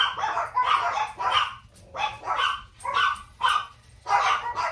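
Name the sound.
dogs barking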